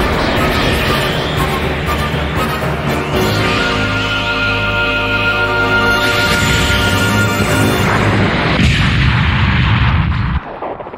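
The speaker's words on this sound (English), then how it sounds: "Lock all gun ports on enemy ship." Anime spaceship main battery guns opening fire, a loud sustained roar of heavy cannon blasts with booming tones and dense rumble, cutting off abruptly near the end.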